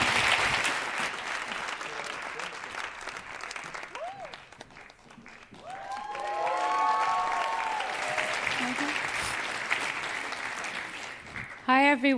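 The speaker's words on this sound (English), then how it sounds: "Once again, a large applause for our laureates." A large audience applauds the laureates at the 2019 Oslo Freedom Forum, with sustained, dense clapping filling the hall for about twelve seconds and a voice faintly heard partway through.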